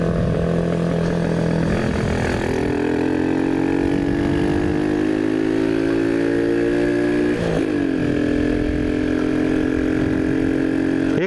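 A Kuba Dragon 50 motorcycle engine ridden at night at low revs, a loud steady drone close by with pitch slowly rising and a brief dip as it shifts, no talk over it.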